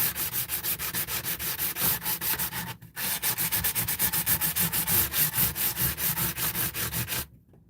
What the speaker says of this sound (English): could just use sandpaper, give her a little bit of a buff